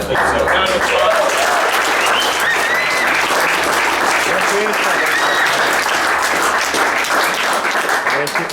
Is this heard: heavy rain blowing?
no